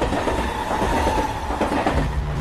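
A train rolls along the tracks with a continuous rumble and faint rhythmic clatter, loud and close, no voices.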